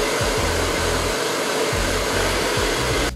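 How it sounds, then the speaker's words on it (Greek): A handheld hair dryer blows with a steady, loud, close whoosh for about three seconds, then cuts off abruptly at the end; no one speaks. "Περίμενα να κάνω λίγο πιστολάκι."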